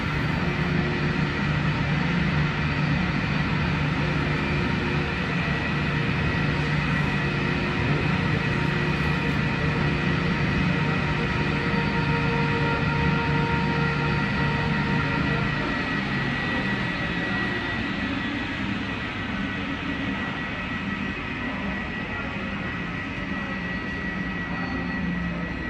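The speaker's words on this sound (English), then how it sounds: "This is our aircraft arriving 18 minutes late from Melbourne." A Jetstar Airbus A320 arriving at an airport gate, a steady, loud jet engine whine and roar with a droning hum that holds for the full stretch without clear change, with no voices.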